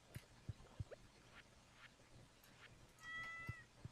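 A cat in Stardew Valley gives a short bright meow near the end as it is petted, over faint ambient background with a few soft ticks.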